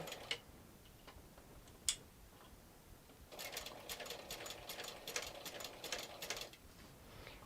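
A sewing machine stitches along a fabric edge with back stitching, a few isolated clicks first, then a quick, rhythmic run of needle ticks and a soft motor whir lasting about three seconds, heard close and quiet.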